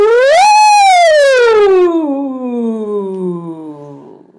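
A voice imitates a siren, sliding quickly up from low to high and then gliding slowly back down, loud and alone.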